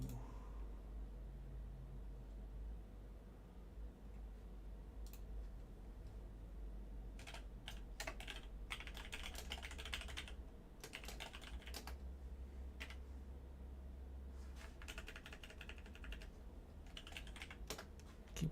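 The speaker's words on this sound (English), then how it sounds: "Keyboard seems like it's a little loud tonight." A computer keyboard clatters quietly during a PC game session, bursts of rapid key taps coming and going over a low steady hum, faint and close with no speech.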